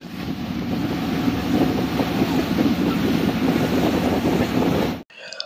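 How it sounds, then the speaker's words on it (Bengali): A boat heads slowly out to deeper sea off Elephant Beach, Havelock, in the Andaman Islands, giving a steady engine drone and rush of water with wind buffeting the microphone for about five seconds before cutting off. "বোটটি নিয়ে আস্তে আস্তে চলল সমুদ্রের আরও গভীরে"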